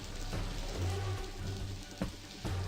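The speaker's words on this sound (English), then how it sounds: "Oh, I guess it's raining now." Steady rain patters in the video game Blackwell Convergence, a constant soft hiss with a few brief low thumps, continuing without voices.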